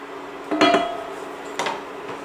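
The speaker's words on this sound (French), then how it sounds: "Et on va mettre le couvercle." A metal lid set onto a cooking pot of carrots simmering in a little water, giving a short clatter followed by a second lighter clink, close by in a quiet kitchen.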